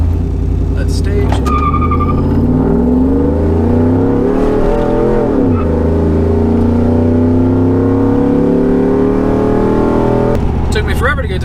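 Lowered truck fitted with a Speed Engineering true dual axle dump exhaust pulls hard, its loud droning exhaust note climbing steadily through the gears with brief shift dips, close and continuous.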